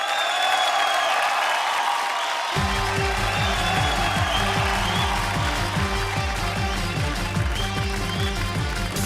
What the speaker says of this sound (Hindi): जोरदार तालियां हो जाएं शकील जी और श्रुति के लिए।